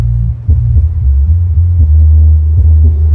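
Imported Bose 1200 subwoofer pumping deep, heavy bass, a loud sustained low rumble with throbbing pulses and soft rhythmic thumps, heard alone and close.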